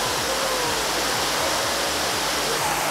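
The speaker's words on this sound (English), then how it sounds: "So I'm gonna shoot this waterfall here, F22, 1/4 seconds, handheld." A waterfall roars steadily and loudly up close, a continuous dense rush of falling water with no speech.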